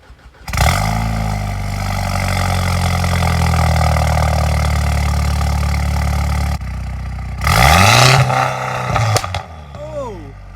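Loud car engine with its muffler and resonator deleted starts, idles with a deep raspy drone, then cuts out and comes back with sharp revs that rise and fall; a brief shout is heard near the end.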